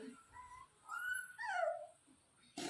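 Stray female puppies in Kerala let out thin, high whimpers and whines in a few drawn-out, wavering calls. The sound is soft and fairly close, ending in a brief rustle.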